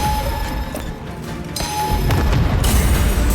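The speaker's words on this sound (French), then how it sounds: "Bombe à fusion activée." Melta bomb exploding in the Warhammer 40,000: Space Marine 2 video game, loud booming blasts and crackling gunfire in dense, chaotic combat noise.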